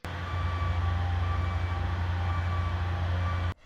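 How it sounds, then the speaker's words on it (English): A garbage truck at 5 a.m. gives off a loud, steady diesel rumble with a constant low drone that holds evenly for about three and a half seconds, then cuts off abruptly. "timeless classics like 5 a.m. Garbage Truck"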